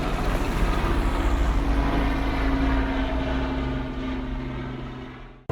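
A helicopter in a VR escape scene drones steadily and loudly, its rotor and engine roar holding a constant low hum before cutting off abruptly at the end.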